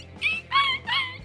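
A dog in Call of Duty Mobile lets out three close, high whimpering yelps in quick succession after its tail is stepped on, each a short pained whine with a brief gap between.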